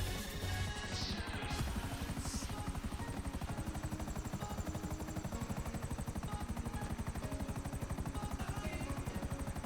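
In a video game, a helicopter hovers close and loud with a steady, rapid rotor chop that carries on through the whole stretch, with no voices over it.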